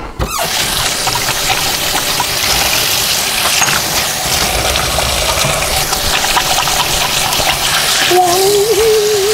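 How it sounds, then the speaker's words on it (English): Water runs steadily from a kitchen tap as hands are rinsed under it, a continuous close splashing wash that lasts throughout, with a brief tonal hum rising near the end. "I'm gonna rinse my hands off again."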